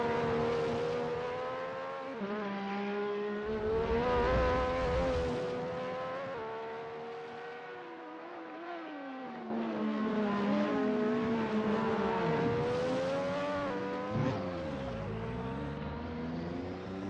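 An onboard race car runs a practice lap of Donington Park in a racing game, its engine howling through rising and falling gear changes, revving hard, dropping sharply for braking, then climbing again, loud and close.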